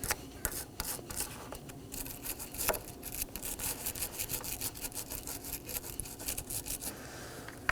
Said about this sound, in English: Grab a brush and cut off as much corrosion as I can.